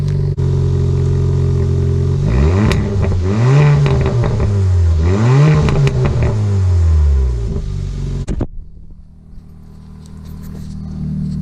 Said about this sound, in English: that is a cold start with this exhaust, but I think it sounds pretty good for stock